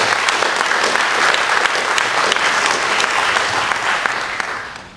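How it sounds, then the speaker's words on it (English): A meeting audience at the Lake County Ohio Tea Party claps steadily in a dense, loud burst of applause lasting about five seconds before it begins to fade. "Let's give them a round of applause, please."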